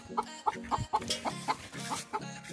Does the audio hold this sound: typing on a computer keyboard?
no